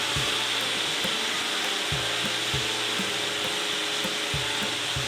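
Potato and long bean vegetable curry fries in a pan after soy sauce goes in, a steady close sizzle with repeated scraping strokes of a spatula stirring, no talking.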